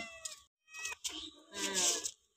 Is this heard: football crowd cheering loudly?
no